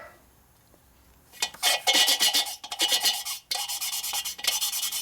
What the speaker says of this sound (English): Now it chatters until it gets lapping compound all the way around. That's what that chattering is.